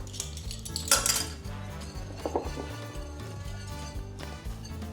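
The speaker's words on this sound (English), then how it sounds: "I'm gonna whisk this up really well" A whisk beating batter with baking soda in a bowl, with quiet rhythmic clinking and scraping against the bowl sides and a few sharper taps.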